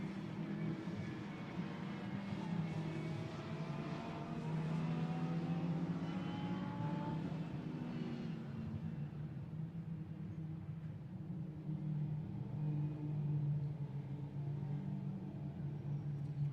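Lamborghini Super Trofeo race cars at the Barcelona circuit idle and drone toward the pit lane, a continuous, mid-distance engine hum with shifting pitch and no sharp revving.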